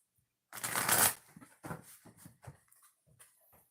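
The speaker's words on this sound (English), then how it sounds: "I'm going to shuffle the deck" A quick riffle of tarot cards being shuffled for a reading, a fluttering burst followed by several lighter taps and slaps as the deck settles.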